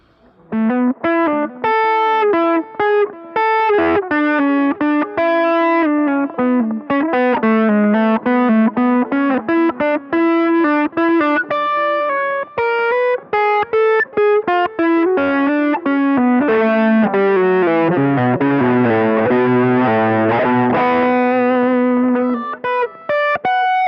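A distorted electric guitar played through a custom amplifier built into a toaster plays continuous melodic lines and chords with a gritty, saturated tone and a touch of effects, loud and steady throughout, no voices.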